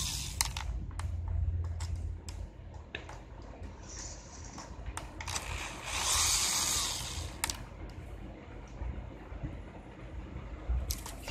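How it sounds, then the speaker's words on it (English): Heat shield mounting screws being removed from a Craftsman Bushwacker string trimmer: sharp metallic clicks and taps scattered over a steady background hiss, with a louder scraping stretch midway, close and without speech. "we're going to get these mounting screws for the heat shield out of here."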